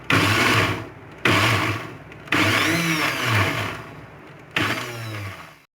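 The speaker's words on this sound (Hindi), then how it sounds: "जो बाकी कैरीज रह गई हैं मैं इन्हें अगेन चॉप कर लूँगी" Electric chopper whirring through raw mangoes in four separate loud bursts, each a high motor whine that starts abruptly and runs about a second before cutting off, close by with no talk.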